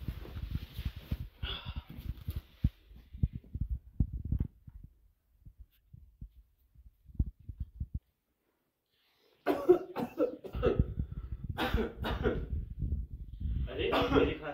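Several rough coughs break through a stretch of talking, followed by a brief silence and then more speech with a few throaty bursts.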